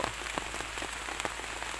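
Steady rain pours down outdoors while digging for termite mushrooms, a dense even hiss of drops striking surfaces with occasional louder spatters, close and continuous.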